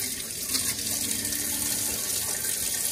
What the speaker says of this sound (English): See if the water gets hot.